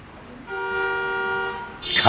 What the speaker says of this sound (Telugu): car horn మోగిందంటే